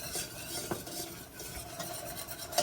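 A flour roux with seasoning is whisked in a pan, soft repeated scraping strokes over a faint, steady sizzle, fairly quiet and close.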